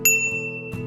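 A small bicycle bell on a Magicycle Cruiser Pro ebike rings close and clear with a single bright ding that rings out, followed by a softer second strike near the end.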